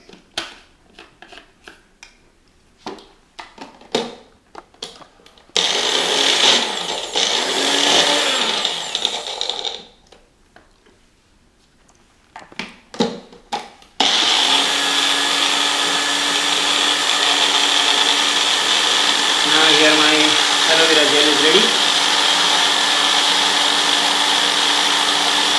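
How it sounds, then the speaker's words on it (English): A kitchen grinder whirs loudly while blending homemade hand sanitizer ingredients, in two long sustained runs with short pulses and a quiet pause between them, close and steady. "Now put it in the grinder."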